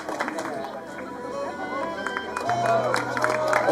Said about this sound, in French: On applaudit encore très fort, s'il vous plaît.